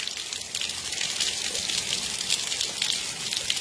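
Rain falls in Orós, Ceará as a dense, steady hiss of drops on surfaces, fairly loud and continuous with no pauses and no voices.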